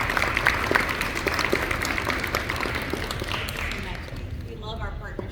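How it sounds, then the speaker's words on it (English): Audience applause at an awards presentation, dense steady clapping from a crowd that holds for several seconds before thinning out near the end. "So let's give them a round of applause"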